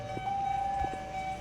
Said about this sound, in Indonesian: Aduh, sirine guys.